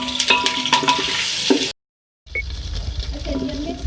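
Whole spices, including black cardamom, cloves, green cardamom and black pepper, frying and sizzling in a pan for Chana Pulao, stirred steadily, then a short break before ginger garlic paste goes in with a fresh, softer sizzle.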